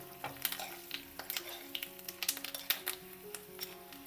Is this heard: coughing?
no